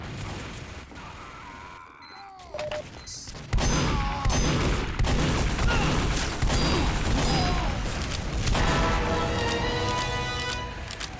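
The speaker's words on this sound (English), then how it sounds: "Yeah, lots of gunfire happening over here." Rapid bursts of gunfire and clattering mechanical sounds from the video game Team Fortress 2, growing louder and denser partway through, with sharp impacts and crashes.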